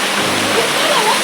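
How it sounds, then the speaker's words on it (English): Waterfall at Napuru rushing as a steady, loud broadband roar that fills the whole short stretch without pause. "the waterfall."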